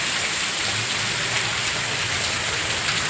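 Steady, heavy rain falls during an evening thunderstorm, an even, unbroken wash of drops striking nearby surfaces at constant loudness.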